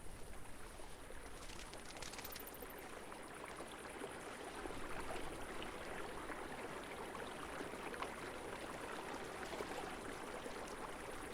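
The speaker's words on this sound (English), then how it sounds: "And even getting in the water has like sound effects and all that here." Video game water effects as a character enters the water: a soft, continuous wash of rushing, trickling water, faint and steady throughout with no voices.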